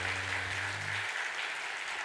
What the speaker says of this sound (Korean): 우리 아까 다 인사했으니까 박수 한번 할까요?